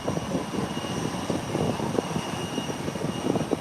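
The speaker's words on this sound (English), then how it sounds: "And the nose wheel is up. And it's away. Beautiful takeoff." An airplane taking off from Howard Hamilton International Airport, a continuous broad engine roar holding steady and fairly loud throughout, with no voices.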